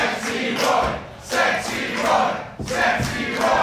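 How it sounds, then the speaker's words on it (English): A large crowd at a wrestling match chants in loud rhythmic surges, swelling and dipping in waves, with no single voice standing out. "Hear the crowd getting behind Sexy Roy, the chants are what you're hearing."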